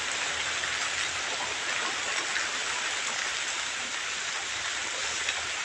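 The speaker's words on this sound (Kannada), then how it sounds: "ಮಳೆ ಮಾತ್ರ ಭಾಳ ಜೋರಾಗಿ ಬರ್ತಾ ಇದೆ" Heavy rain pours steadily onto leaves, a dense continuous hiss of drops that stays loud and even throughout, with no voices over it.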